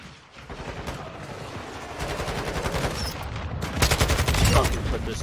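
Submachine gun fire in a video game rattles in rapid sustained bursts, loud and close, intensifying toward the end.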